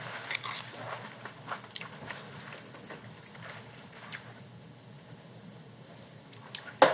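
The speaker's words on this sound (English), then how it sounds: "I would say this is an important salad to taste up front." Someone chews a raw kale salad with pecorino close to the mic, producing soft, irregular crunchy bites and chewing sounds over a quiet room. One sharp clatter comes at the end.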